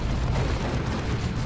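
A grenade explosion in the Warhammer 40,000: Dawn of War 2 video game during a 3v3 battle, a dense, loud rumbling blast that fills the whole moment with low, sustained roar.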